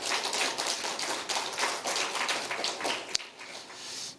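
Church congregation clapping at a Sunday worship service, a dense, rhythmic round of applause with steady beats and one sharp louder clap near the end.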